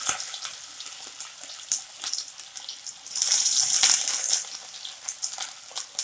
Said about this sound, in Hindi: हम एक एक फिश लेंगे और धीरे धीरे तेल में छोड़ते जाएंगे